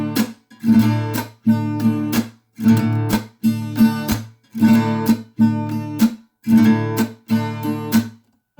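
Acoustic guitar chords strummed with thumb slaps, repeated in a steady pattern of about eight short bursts, each a bright strum with percussive slap accents, close and clear with no talking.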